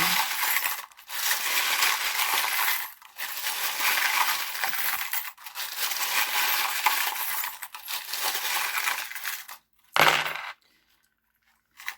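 Tarot charms cast onto a table for a reading, a long rattling, clinking cascade of small metal and glass trinkets tumbling and settling in several loud bursts, with a brief sharp clatter near the end.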